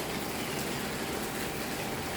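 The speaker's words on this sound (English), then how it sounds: "Rainy, rainy, rainy." Steady rain falls on a wet day in Thailand near an outdoor swimming pool, a dense, even hiss that continues without a break and with no voices over it.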